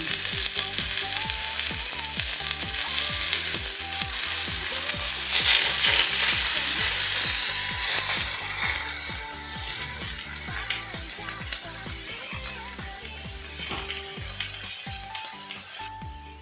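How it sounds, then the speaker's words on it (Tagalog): Meat sizzles on a hot grill pan, a loud, steady crackling fry that continues throughout with small clinks from handling and no talk. "mainit na ang ating grill pan"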